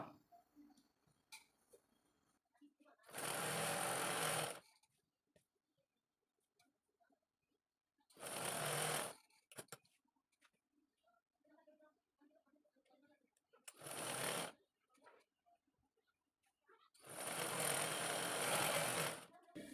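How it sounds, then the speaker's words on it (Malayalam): Home sewing machine stitching a section of a princess-style kurti, running in four separate bursts of steady whirring, each a few seconds long, with quiet gaps and soft speech between them. "ആ ഒരു പോർഷനും കൂടി പെട്ടെന്ന് അങ്ങോട്ട് സ്റ്റിച്ച് ചെയ്ത് അങ്ങോട്ട് എടുക്കാം"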